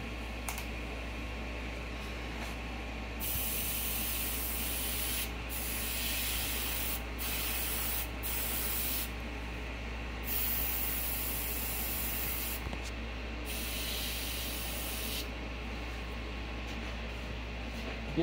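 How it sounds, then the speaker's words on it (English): Spray paint hisses in bursts of a few seconds each, separated by short pauses, as black umber is applied around the nose of a taxidermy deer head; fairly faint and close, with no talk. "when you're spraying around this nose not to get the black umber inside the nose"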